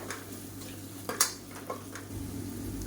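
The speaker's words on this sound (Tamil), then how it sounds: "இதையும் சேர்த்து நல்லா வதக்கி விட்டுக்கலாம்" Ingredients for a meat curry sauté in a pan with a soft background sizzle. A few metallic clinks and scrapes from the spatula stand out, and the frying swells slightly toward the end.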